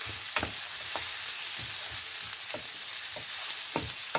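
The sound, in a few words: sautéing french beans with dried chillies on low flame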